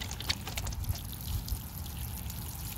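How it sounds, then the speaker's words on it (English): Water poured from a watering can onto freshly covered tomato roots in garden soil, a steady close trickling splash running throughout with no talking. "now I'm just gonna water it in a little bit with my watering can"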